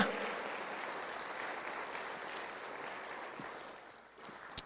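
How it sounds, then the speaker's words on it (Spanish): A church audience applauds during a sermon, a soft, continuous wash of clapping that sounds distant and faint, and then tails off near the end. "Denle un aplauso a Jesús"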